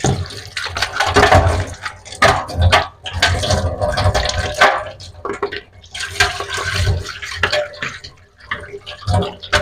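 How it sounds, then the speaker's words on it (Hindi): Water runs from a kitchen tap while ice is washed off homemade butter in a bowl, a loud gushing stream that splashes and shifts in intensity as the bowl moves under it. "अब इसको भी टूटी के नीचे धो के इसकी भी बर्फ निकाल लेते"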